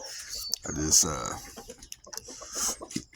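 Amber Link chickens cluck in short bursts close by, with a voice talking faintly under them.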